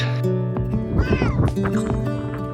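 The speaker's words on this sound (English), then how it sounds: "the cats are going nuts" Pet cats inside a converted old bus parked at a dispersed camping area in Utah meow loudly and insistently, several yowls overlapping one another against steady background noise.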